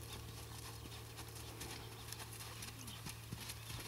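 A horse moves under a rider during gait training, with soft, faint hoofbeats clip-clopping over a steady noisy background hum.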